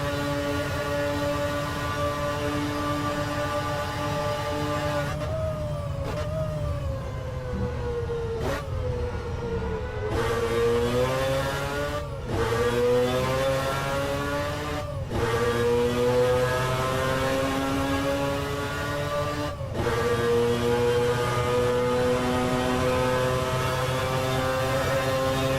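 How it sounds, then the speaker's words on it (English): Loud engine roar with rising and falling pitch as several Mazda race cars accelerate and shift gears down a straight, continuous and close, with no talking. "just listen to these cars and hear what they sound like down this incredible straight"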